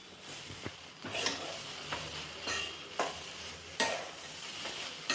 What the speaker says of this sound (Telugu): అవి చల్లుకొని కొంచెంసేపు అట్ట కలబెట్టేయాలన్నమాట